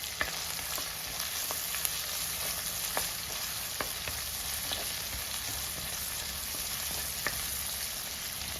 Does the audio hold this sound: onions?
yes